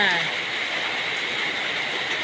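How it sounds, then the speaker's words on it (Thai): Steady rain pours down in a dense, even hiss with no pauses, fairly close and loud throughout. "ฝนตกจ้า"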